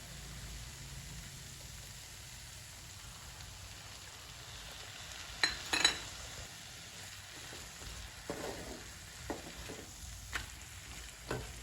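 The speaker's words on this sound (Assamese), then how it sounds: "এখিনি মই এতিয়া ভাজি যে আছো মটৰখিনি তাত দি দিম" Ingredients frying in a pan before peas are added for paneer matar ghugni, a soft continuous sizzle with a few louder stirring scrapes near the middle. The sounds are quiet and no one speaks.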